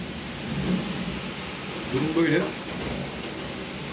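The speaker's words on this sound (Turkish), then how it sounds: "Görüyorsunuz her defasında bir yıldırım düşüyor." Steady rain pours during a thunderstorm in Istanbul, with a rumble of thunder swelling briefly midway. Someone talks over the storm noise.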